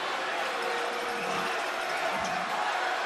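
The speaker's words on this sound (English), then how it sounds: "The crowd's going crazy." Spectators in a packed arena roar at a Nevada versus Utah State college basketball game, a dense, steady wash of crowd noise that stays loud throughout without a break.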